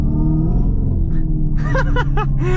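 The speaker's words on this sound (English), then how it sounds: "what do you guys think of the acceleration noise in the car?" A 2025 Dodge Charger Daytona electric car plays a simulated engine sound, a deep, loud rumble droning steadily and rising in tone with acceleration, while a person talks over it toward the end.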